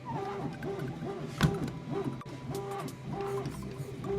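A small 1/24-scale HBX 2098b Devastator RC car motor runs steadily with a repeating whirring, wavering pitch, close by and fairly quiet, with one brief knock partway through.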